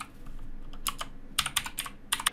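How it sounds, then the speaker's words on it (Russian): A city name typed on a computer keyboard, heard as bursts of crisp, close key clicks in quick clusters over a quiet room hum, with no talking. "Пишу Ульяновск, нажимаю Enter"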